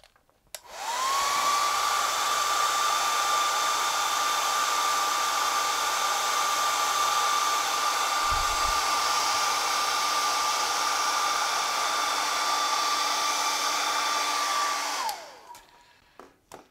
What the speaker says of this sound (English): finish it off with a hair dryer